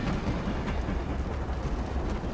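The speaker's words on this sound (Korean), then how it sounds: "기차다." Train ride in the video game Wolfenstein: The New Order, with a steady low rumble and a faint rhythmic clatter of the wagons, continuous and enveloping throughout.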